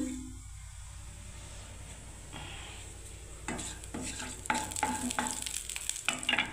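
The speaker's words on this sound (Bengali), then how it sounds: "তেল গরম হলে আমি বন্ধুরা আবার একটু কালো জিরে দিয়ে দিচ্ছি" Black cumin seeds sizzle and crackle in hot mustard oil in a wok, a soft steady frying hiss that grows busier and louder partway through, with light stirring scrapes in the background.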